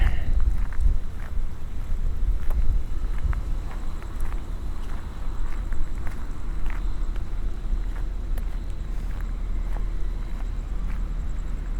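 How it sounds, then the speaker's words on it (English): Strong monsoon wind buffets the microphone at night in downtown Mesa, Arizona, in a continuous low roar, with scattered clicks and rattles over the gusts and no voices. "It's getting really windy."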